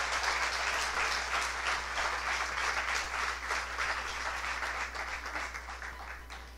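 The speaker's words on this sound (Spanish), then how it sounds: "Dale un fuerte aplauso al Señor." Church congregation applauding together in a sustained burst of dense clapping that stays even, then thins slightly toward the end, heard from within the room.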